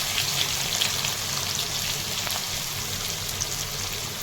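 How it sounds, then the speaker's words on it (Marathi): Chopped onion sizzles steadily in hot oil tempered with mustard seeds and cumin, a dense even frying hiss with faint crackles and no voices. "मोहरी जिरे तडपण्याचा कांदा टाकून घेतलेला आहे"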